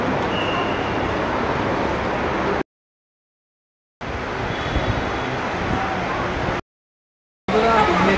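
A Kolkata metro train arriving at Dakshineswar station, a loud, steady rumble and roar broken twice by brief silent gaps.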